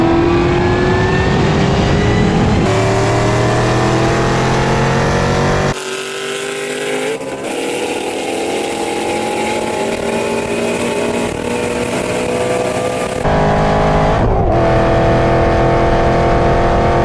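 A Ford Mustang Shelby GT350 pulls hard in third gear, its loud engine note climbing steadily under acceleration with a brief dip and surge midway, heard up close without talk.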